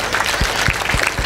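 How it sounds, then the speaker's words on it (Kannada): Schoolchildren applauding together, a brisk, even wash of many small hands clapping at close range, sustained throughout without any voices. "ಚಪ್ಪಾಳೆ ಧ್ವನಿ ಇನ್ನೂ ಜಾಸ್ತಿ ಆಗಿ ಬರಬೇಕು"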